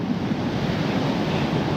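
Ocean waves wash up on Chennai's ECR beach in a continuous, loud roar of surf, mixed with wind buffeting the microphone and no voices.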